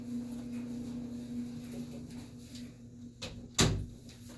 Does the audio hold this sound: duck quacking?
no